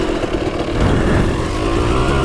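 A loud, buzzing Yamaha YZ250 two-stroke dirt bike engine revs up close and holds at a raspy, high-revving drone.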